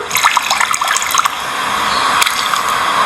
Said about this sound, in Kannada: ಪ್ರತಿದಿನ ಅದಕ್ಕೆ ನೀರು ಹಾಕ್ತಿದ್ದ